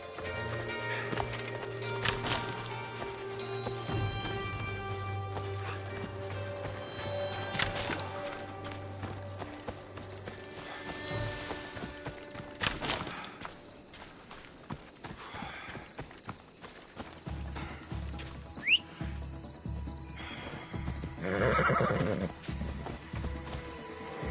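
A horse in Assassin's Creed Odyssey galloping with clear rhythmic hoofbeats, several whinnies and neighs rising above, alongside game music and ambient effects, with pace shifts through the run.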